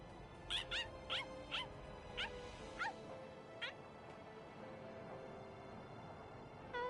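A dog in the video game Bleach Rebirth of Souls gives a string of faint high yips and whimpers, about eight short cries spaced roughly half a second apart, over a quiet background.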